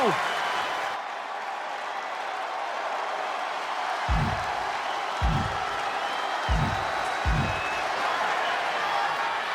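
Simulated arena audience in the WWE 2K25 wrestling game, a steady wash of crowd noise and applause with a few heavy thuds punctuating it, while a commentator talks over the top.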